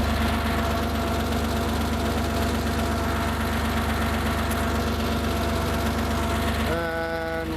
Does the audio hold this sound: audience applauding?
no